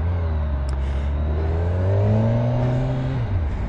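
A 2024 Kawasaki Ninja 1000SX motorcycle engine revs close and steady, its pitch climbing and then easing back, with no voices.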